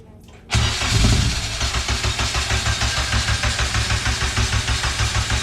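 A K-swapped Honda Civic engine cranks briefly, catches with a loud surge, then settles into a steady, pulsing idle close by.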